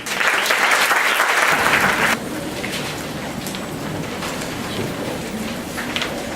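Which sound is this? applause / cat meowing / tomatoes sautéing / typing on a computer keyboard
applause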